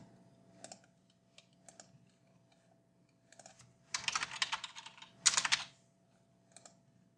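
Someone types on a computer keyboard while entering article text in Joomla 1.5. Scattered key clicks give way to two brief bursts of rapid typing. The typing is faint, close and has no voices over it.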